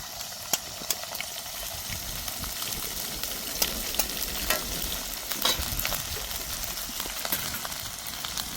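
Ginger-chili paste frying in hot oil for Manchurian, a steady soft sizzle with scattered sharp pops and spatter crackles, close and continuous without any voices.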